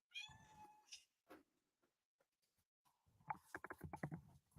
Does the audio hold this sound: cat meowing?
yes